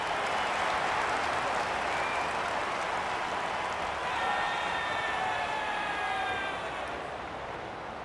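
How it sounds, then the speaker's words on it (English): Stadium crowd noise and applause from the AFL 26 football video game form a continuous, moderately loud roar that swells slightly in the middle and eases toward the end. "The crowd noise tells you all you need to know."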